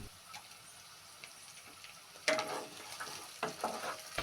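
Black cumin, bay leaves and cinnamon pieces dropped into hot oil for a chicken and bottle gourd curry, starting with a faint hiss and then a sudden loud sizzle that crackles in bursts as the spices are stirred.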